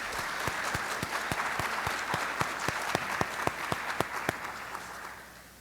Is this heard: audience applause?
yes